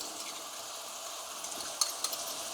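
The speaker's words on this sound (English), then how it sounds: "And give that a good stir in." Ginger stirred into beef curry frying in a pan for a Madras-level curry gives a steady, faint sizzle throughout, with a couple of brief scraping clicks near the end.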